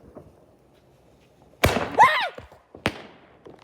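Parachute fireworks go off outdoors in two sharp, loud bangs about a second apart, with a brief shout between them.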